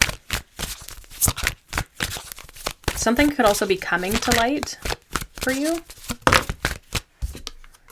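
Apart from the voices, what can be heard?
shuffling tarot cards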